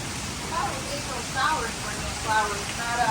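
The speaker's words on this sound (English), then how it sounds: "it is pouring" Heavy storm rain pours down in a steady, dense hiss that never lets up, with voices talking faintly over it.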